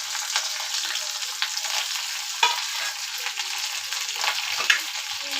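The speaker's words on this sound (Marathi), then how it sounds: "आता तेलही तापलेलंच आहे. इथे मी कांदा घातला आणि कढीपत्ता." Onion and curry leaves hit already-heated oil in a pan for an amti, making a loud, continuous sizzle with occasional sharp stirring clicks and spatters.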